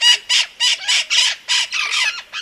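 Harsh, repeated squawks from a newly described Yucatán amazon parrot, about eight loud, close calls in a steady rhythm with short gaps between them, heard with no other sound.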